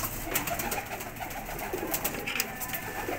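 Male racing pigeons being readied for a championship in Karachi coo softly and continuously, a low murmuring bed of several birds close by with no talk.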